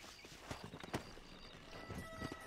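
Horse hooves clip-clop in Red Dead Redemption, a quick uneven run of sharp strikes over a constant hiss of ambient game noise.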